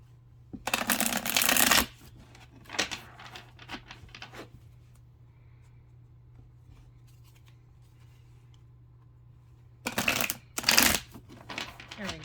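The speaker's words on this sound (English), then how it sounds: "that's how I shuffle" Tarot of the Human Experience cards from a new deck being shuffled by hand, two crisp riffling bursts at the start and two more near the end, separated by softer handling taps and quiet pauses over a low steady hum.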